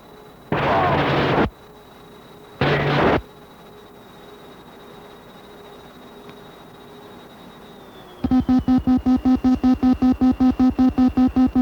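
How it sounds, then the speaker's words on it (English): Two heavy explosions from bombs dropped in an A-37 air strike during the Vietnam War in June 1970, each a loud, sustained roar about a second long, followed by a rapid mechanical pulsing drone near the end. "Real nice bomb there, beautiful bomb."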